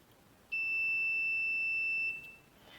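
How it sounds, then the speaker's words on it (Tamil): A single steady electronic beep from a DC power supply set to 3.7 volts, sounding as the two test probes touch. It is clear and sustained for about one and a half seconds over a quiet background. "அப்போ டச் பண்ணும்போது பீப் சவுண்ட் வந்தால் இது வந்து சரியாக கனெக்ட்"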